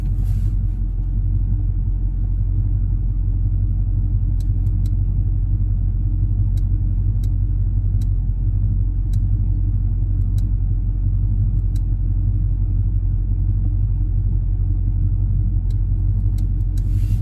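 A 1970 El Camino engine with a turbo 400 transmission rumbles deep and loud at a steady pace in first gear, with a few faint sharp clicks scattered over the low drone.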